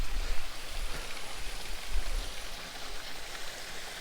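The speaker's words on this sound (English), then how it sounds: "a lot of the water running underground" Water runs down limestone rocks along the Pennine Way near Horton in Ribblesdale, a constant close rushing trickle with no voices.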